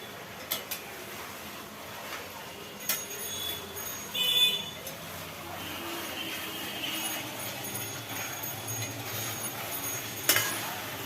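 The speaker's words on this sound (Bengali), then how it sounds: "এর ভেতরে আলুগুলো ভাজা আলুগুলো দিয়ে একটু নাড়াচাড়া করে" A quiet, steady sizzle as fried potatoes are stirred into a pan of cooking curry, with scraping stir strokes and a few light clinks of a utensil against metal.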